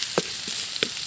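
Shrimp and cabbage sauté in a pan outdoors, a loud, close sizzle with two quick stirring bursts cutting through the steady frying hiss.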